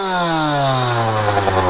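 Kawasaki KX85 two-stroke dirt bike engine running nearby, a loud buzzing drone whose pitch slides steadily down as the revs fall, then rises slightly with a few small blips near the end.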